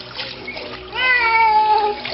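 A cat meowing in a video being played back, a single drawn-out meow in the middle, muffled and thin, over background noise.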